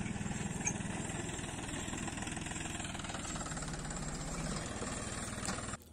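A John Deere and a Ford 3600 tractor racing in fourth gear at full throttle give a steady, rapid diesel chug with a rattling, knocking pulse. The sound holds constant and close, then cuts off at the end.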